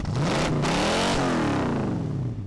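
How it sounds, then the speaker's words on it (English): Revving engine effect from the Test Drive 6 racing game menu, a loud continuous rising and falling engine drone with sweeping pitch, heard alone without talk. "this revving engine sound effect in the menu is also still making noise"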